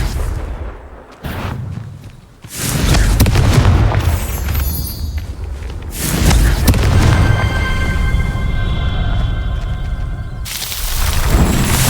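Confringo blasting spell explosions in the Hogwarts Legacy video game, loud booming blasts with rumbling tails and magical shimmering, several bursts following one another across the stretch.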